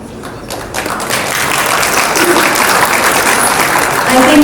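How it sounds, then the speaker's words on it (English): An audience at an airline's tenth anniversary celebration breaks into applause that swells into loud, continuous clapping and keeps building to the end. "I think we all can do a round of applause, please."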